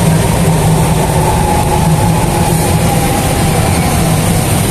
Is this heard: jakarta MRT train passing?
yes